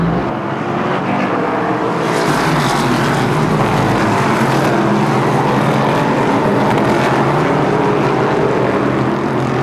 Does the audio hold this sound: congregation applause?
no